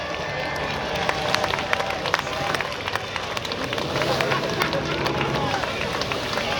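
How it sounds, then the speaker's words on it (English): A crowd cheers and claps for raft race crews nearing the finish line at a seaside raft race, a dense, steady wash of applause and shouts with a voice on a public address system over it. "Give them a cheer, ladies and gentlemen, make some noise."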